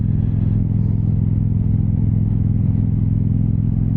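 A sport bike motorcycle passes nearby as a steady, loud low engine rumble that holds evenly for a few seconds, with no talking over it.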